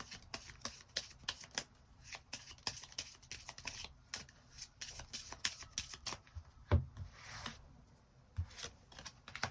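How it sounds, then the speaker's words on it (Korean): Tarot cards are shuffled by hand in a quiet room, a close run of soft riffling flicks and papery taps in irregular bursts, with a faint voice now and then. "추가 카드 뽑아보도록 하겠습니다"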